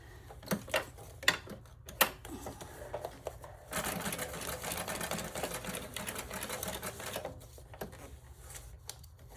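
A sewing machine stitches through paper. A few sharp isolated clicks come first, then a close, steady burst of rapid mechanical whirring and clattering runs for several seconds before stopping, followed by a few more clicks.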